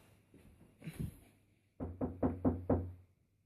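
Someone raps on a door five times in quick succession, following a few softer thuds, fairly quiet and with no voices.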